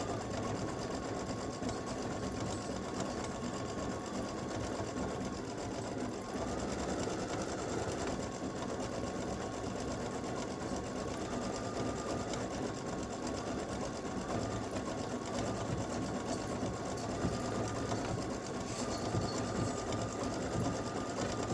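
An embroidery sewing machine steadily stitches an applique satin stitch around a scissors-handle design, a constant rapid mechanical chatter running unbroken and fairly faint, with no voices.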